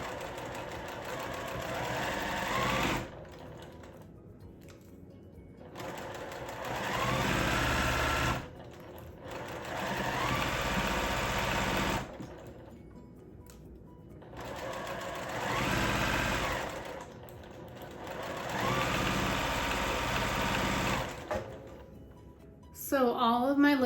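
Sewing machine stitching fabric jar lids onto a canning-themed quilt block, running in several steady bursts of a few seconds each with short pauses between, fairly close and prominent, with brief speech at the end.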